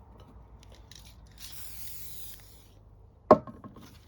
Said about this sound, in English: spray the bottom.